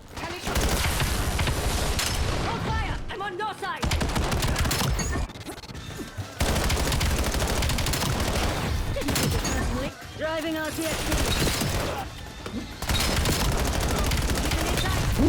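Gunfire in the Call of Duty Black Ops 7 video game comes as dense rapid bursts and crashes. Volleys are separated by short gaps, and a voice talks over parts of the fighting.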